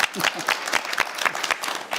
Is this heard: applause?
yes